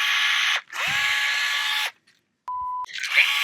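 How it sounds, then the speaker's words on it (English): A pneumatic tool pops rivets into an Airstream trailer, with two sustained whirring bursts, a short steady beep-like tone and a final burst, all loud and close. "10 popped rivets."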